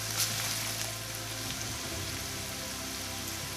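Onions frying in a pan, a steady soft sizzle and hiss like light rain, even and continuous, heard alone at low volume.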